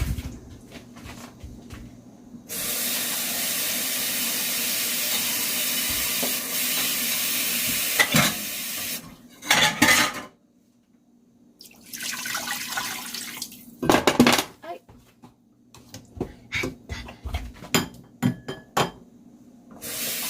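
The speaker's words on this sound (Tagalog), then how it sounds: "Lalagyan ko na siya ng tubig." Water poured into a pot of chicken arroz caldo seasoned with chicken powder, a steady rushing pour running for several seconds, then stopping, followed by clinks and stirring knocks against the pot.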